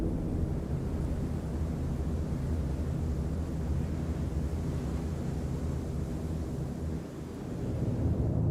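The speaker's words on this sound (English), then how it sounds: "I'm glad there's a storm here." Thunderstorm in the game Star Citizen: a continuous loud low rumble of thunder and wind that dips briefly near the end.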